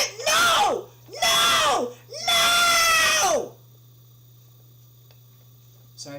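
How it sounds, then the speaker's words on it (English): A man screams loudly and angrily in three long, harsh bursts close to the microphone, then falls silent over a low steady hum. "Sorry if I'm screaming in the camera."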